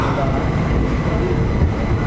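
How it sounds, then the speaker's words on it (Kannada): Low rumbling of the Amaravati Express leaving Visakhapatnam railway station, steady and close, with a faint hum and slight clatter underneath, no clear talk. "ನಮ್ಮ ಟ್ರೈನು ವಿಶಾಖಪಟ್ಟಣಂ ನಿಲ್ದಾಣವನ್ನು ಬಿಟ್ಟಿದೆ"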